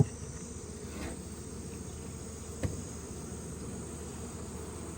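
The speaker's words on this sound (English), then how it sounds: "Some bees on the roof there." Honey bees buzz around a hive on a roof in late season, a steady low drone holding throughout at moderate level, with a sharp faint click near the middle and no voices.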